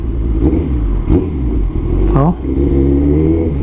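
A Kawasaki ZX14R motorcycle with an aftermarket exhaust idles with a deep throaty rumble, with a few sharp throttle blips and a rising rev, close and loud.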